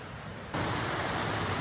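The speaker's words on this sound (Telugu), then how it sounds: "ఇది చిన్న వాటర్ ఫాల్ వస్తుంది ఇక్కడ నుంచి" A small year-round waterfall flows beside a little bridge at a resort, giving a constant rushing wash that jumps abruptly louder after a brief quieter opening.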